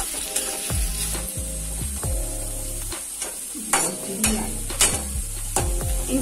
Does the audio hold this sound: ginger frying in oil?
yes